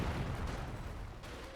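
Katyusha rocket artillery barrage in a strategy game: a continuous low rumbling roar of rockets and distant impacts, loud and steady throughout the short stretch.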